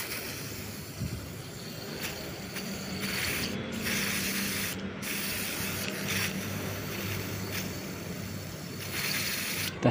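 Aerosol WD cleaner hisses steadily into a Daihatsu Granmax throttle body, a close, continuous spray with a few short breaks and no voices.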